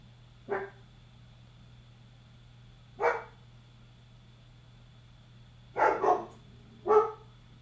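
A puppy indoors gives four short sharp barks, the last ones in quick succession, separated by long pauses over a steady low electrical hum.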